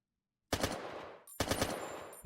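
Two rapid bursts of automatic gunfire in the video game Cyan Brain, each a loud, close rattle of shots with ringing tails, separated by a short pause, with no talking.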